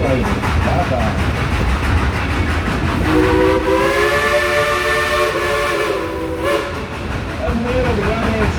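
An old-fashioned whistle on a Dollywood locomotive sounds a long, loud, steady tone over the rolling rumble of the moving train, then fades as the ride continues.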